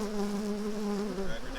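A steady, close buzzing drone of many honeybees around a hive during a hive split, holding a low hum that wavers slightly in pitch, with no talking.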